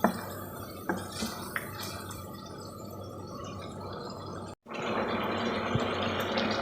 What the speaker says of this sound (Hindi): मैं थोड़ा सा और पानी भी इसमें डालूँगी।